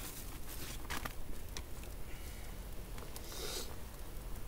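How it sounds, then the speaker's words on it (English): Sleet pattering steadily on a bushcraft lean-to shelter in a hard wind, a dense, continuous hiss of fine ice grains with gusty surges, close and moderately loud. "A little bit of the sleet coming down."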